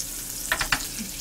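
Butter melting in a pan for an orange-juice glaze on a pork-cutlet gimbap, giving a quiet sizzle with a few short bursts of stirring or spattering.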